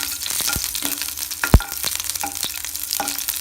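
Garlic fries in hot oil in a pan for Tamil vatha kuzhambu, giving a close crackling sizzle broken by several sharp spatula scrapes and taps.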